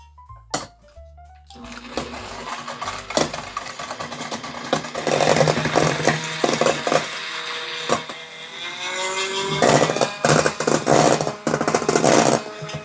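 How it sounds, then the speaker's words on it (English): An electric mixer beats whipped cream, a loud, continuous whirring drone that rises in intensity as the speed increases, close and uninterrupted. "So you just mix it at low speed, and then ultimately you bring it up to fast speed."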